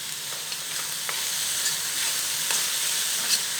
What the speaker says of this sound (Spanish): La berenjena también va a absorber un poquito del aceite y tienen que ir revolviendo constantemente